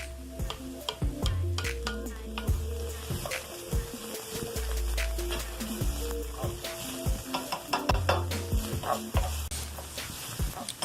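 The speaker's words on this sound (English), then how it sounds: "I pre-chopped my onions and my peppers, and I'm just going to throw them into the olive oil so we can saute them" Chopped onions and peppers sizzle in hot olive oil in a pan, a steady frying hiss broken by scraping stirs and utensil clinks, with background music underneath.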